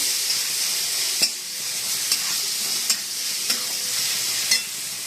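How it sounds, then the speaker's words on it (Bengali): Chopped ginger and softened tomatoes fry in a pan with a constant sizzle, while a spatula stirs and scrapes in regular strokes roughly every second; nobody speaks. "এবার আদা কুচিগুলো দিয়ে দেবো, নাড়াচাড়া করবো।"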